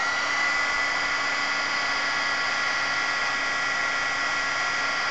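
A heat gun blows a steady, even whir with a high-pitched hiss while heat-setting embossing on chipboard. It runs close and constant for the whole stretch, with no talking.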